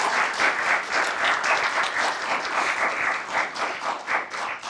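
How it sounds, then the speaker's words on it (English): A crowd at a science institute closing ceremony claps for the group and staff, a loud, dense, pulsing wash of many hands that runs through the whole clip without speech. "Let's just give one more round of applause to this group as well as the staff."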